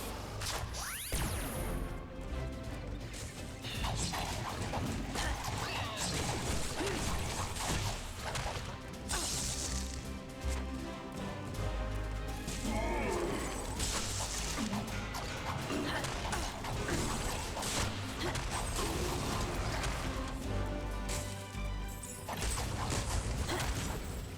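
Shooting at and shattering an ice object in Skylanders: Swap Force, with loud, busy crashes, whooshes and mechanical clatter running continuously under game music.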